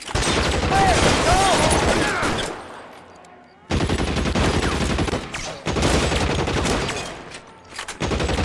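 Heavy automatic gunfire in an L.A. Noire shootout comes in loud, sustained bursts separated by short pauses, close and overwhelming, with faint voices briefly underneath.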